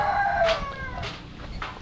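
A Black Australorp rooster crows at a heritage chicken farm, a bright warbling call with falling tones, followed by further short crowing and clucking from nearby fowl.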